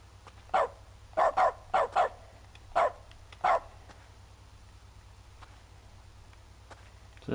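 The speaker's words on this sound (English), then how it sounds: "I need to turn that dog noise off." A dog barks in short clipped yaps within The Stanley Parable game, about seven barks in irregular pairs and singles over a steady low electronic hum.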